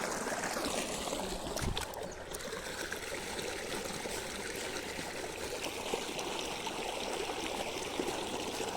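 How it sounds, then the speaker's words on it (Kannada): Irrigation water flows steadily past a blocked channel toward a field, a continuous close rushing and trickling stream that stays even throughout. "ಕಟ್ಟಿದ್ರು ಹೋಯ್ತಾ ಇದೆ ನೀರು"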